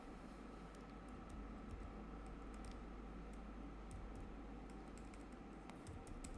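Keys tap on a computer keyboard in quick, irregular bursts of light clicks, faint and close against a low background hiss.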